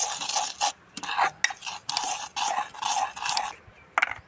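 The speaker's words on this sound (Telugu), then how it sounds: "ఆయిల్ యాడ్ చేసుకొని బాగా మిక్స్ చేసుకుందాం." Cauliflower pieces stirred with added oil in a bowl: a continuous run of wet, crunchy scraping and clinking strokes, close and fairly loud, in quick repeated bursts.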